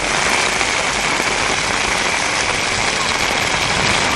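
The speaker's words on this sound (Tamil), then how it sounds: "உதகை குன்னூர் கோத்தகிரி உள்ளிட்ட பகுதிகளில் திடீர் என்று மழை பெய்தது" Sudden heavy rain with hailstones pounds down in the Nilgiris hills around Ooty, Coonoor and Kotagiri, a loud, unbroken roar of drops hammering surfaces close by throughout.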